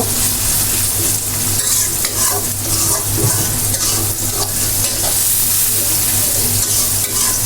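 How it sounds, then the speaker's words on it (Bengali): Onions frying in a pan until brown, a dense continuous sizzle with occasional stirring scrapes, close and steady throughout with no voices. "পেঁয়াজটা আমি একটু ভেজে নিব বাদামি কালার করব"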